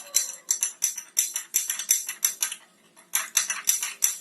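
A spoon stirs milk sarbath with ice in a glass, producing rapid, bright rhythmic clinks and rattles of ice against the glass in close, repeated bursts with a short pause midway.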